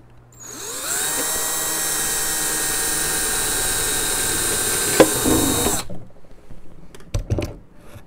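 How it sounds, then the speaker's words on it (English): A power drill whirs up to a steady high-pitched whine for several seconds drilling a hole in a plastic jug, then stops, followed by light handling clatter. "I always start with a hole with my drill somewhere near the handle here"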